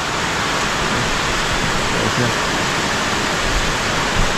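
Heavy rain pours down in a steady, loud, unbroken hiss that fills the whole stretch without easing, with no voices over it.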